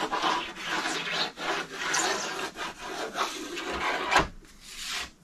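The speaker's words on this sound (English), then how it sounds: "Just gotta hold it at a slight little angle to get a good scrape down through there, get all that wax off." A plastic scraper dragged at a slight angle across a waxed snowboard base, giving repeated close, rough rasping strokes that shave off the wax, with short pauses between passes.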